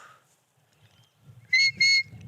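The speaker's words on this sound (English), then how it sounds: "That's the stop whistle." Two short, sharp high-pitched dog herding stop whistle blasts in quick succession after near silence, with faint background rustle.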